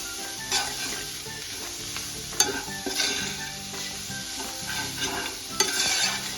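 Safflower leaf greens (kardai bhaji) being stir-fried in a pan: a loud, continuous sizzle broken by regular scraping and clanking spatula strokes, close up and free of talk.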